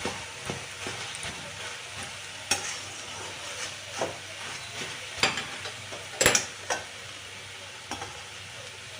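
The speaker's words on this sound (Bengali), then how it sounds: "এই দেখো হচ্ছে নাড়া দিচ্ছি যে নিচেরটা উপর দিকে উপরেরটা নিচের দিকে করে দিচ্ছি" Mung dal and ash gourd being stirred in a pan for a vegetarian ghonto with grated coconut: a low sizzle with scattered scraping strokes and occasional louder clanks of the spoon against the pan.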